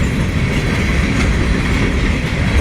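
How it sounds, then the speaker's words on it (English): A slow southbound freight train rolling through Bunkie, Louisiana, close and loud, with a steady low rumble and rhythmic clickety-clack of wheels over rail joints throughout. "Oh, the train's going slow."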